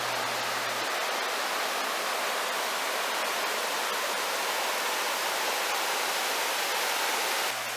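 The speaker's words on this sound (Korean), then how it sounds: "비선폭포의 모습도 보입니다." Biseon waterfall in a mountain valley on Myeongseongsan, a steady broadband roar of falling water filling the whole span, constant and fairly loud with no voices.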